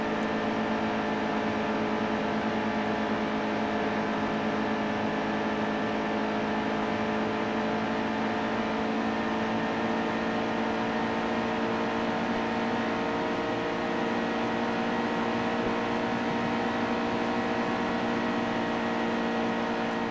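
Race car engines in the NASCAR Heat 2 game hold a steady, loud droning whine at nearly constant pitch for the whole stretch, with no breaks and no voices.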